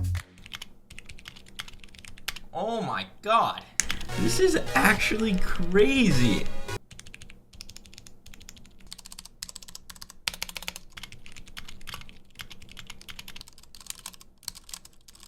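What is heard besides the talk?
custom mechanical keyboard typing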